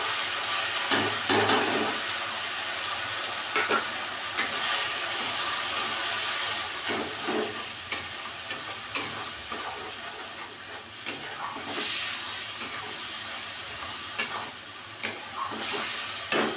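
Pointed gourd seed paste frying in a pan, a steady broadband sizzle with occasional sharper crackles and stirring scrapes, close and continuous with no talking.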